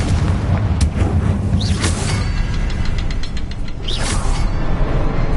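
Heavy, rumbling blasts from the Confringo fire spell in Hogwarts Legacy, loud and continuous, with a couple of sharper bursts layered over dense booming game noise.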